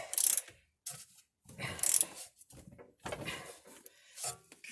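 A ratchet is used on the rear suspension of a BMW E61 Touring during a suspension rebuild. It gives several short bursts of close, crisp clicking separated by brief pauses, with no talk.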